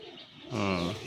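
A single brief pigeon coo from a breeding-pair pigeon, near and fairly quiet, with no talking.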